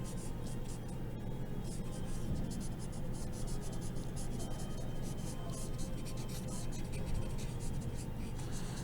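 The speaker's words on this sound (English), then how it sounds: "I'm going to take my stump and I'm going to blend these out" A blending stump rubs steadily over a pencil drawing of hair on paper, a soft, continuous scratchy swishing up close in short repeated strokes.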